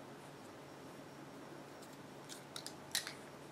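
Scissors snip the yarn end of a crocheted Valentine infinity scarf: a few quick, faint cutting clicks near the close of a quiet stretch over low room hiss.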